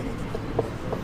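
Marker or chalk scratching in short strokes on a board during a Class 10 maths lesson on areas related to circles, a few faint scrapes over steady room noise.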